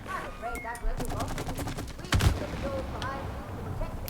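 Video game gunfire in It Takes Two, several sharp shots and short bursts scattered among excited voices talking over them, with one loud blast near the middle.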